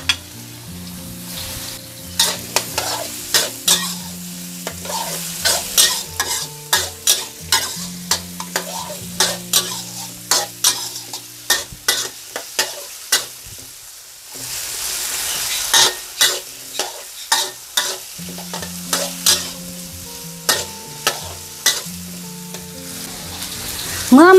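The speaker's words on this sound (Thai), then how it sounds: "ตั้งกระทะเลยค่ะใส่น้ำมันลงไปเลยให้ใส่หอมใหญ่แล้วก็มันฝรั่งค่ะ" Diced onion and potato fry in oil in a pan, a constant sizzle broken by repeated scraping and clattering stirs, with a brief lull midway.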